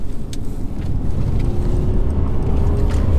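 A 2015 Mercedes C220 driving on the road, heard from inside as a loud, steady low engine and road rumble with a rising engine note and faint tyre noise, continuous with no talking.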